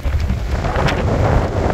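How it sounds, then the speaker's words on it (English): Strong wind buffets the microphone in a constant loud rumble with gusty low-end thumps, no voices present, outdoors on Highway 37 in northern British Columbia near Dease Lake. "It's really windy out right now"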